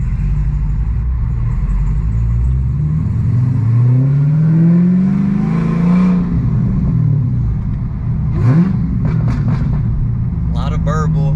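A manual 6-speed swapped Hellcat Charger rumbles loudly from inside the cabin while driving, its engine note rising and falling through revs with a deep burble. Someone talks over the sound.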